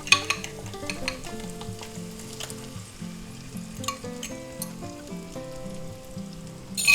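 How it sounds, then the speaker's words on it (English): An egg mixture sizzles steadily in a pan, with a bright crackle and light scraping as it is stirred. No one speaks. "Now we're going to add our egg mixture in there."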